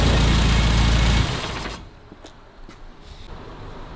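A 1963 Mini Cooper with a 997 engine runs after a carburetor adjustment, loud and close at first, then the rough mechanical running drops to a quieter steady idle with a few faint clicks.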